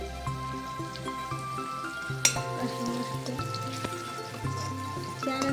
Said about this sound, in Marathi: आपलं टोमॅटो टाकून झाल्यानंतर मस्त असं तळून घ्यायचं आहे